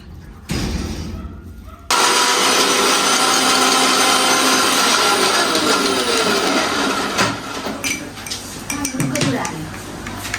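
Small electric meat grinder mincing about two kilograms of meat for momo filling at a home cooking party: a loud, steady grinding whir that kicks in after a brief start and runs continuously, with people talking nearby.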